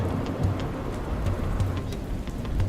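Steady heavy rain in Dustland Delivery pours down as an even, dense hiss from start to finish, with faint low rumbles underneath and no voices.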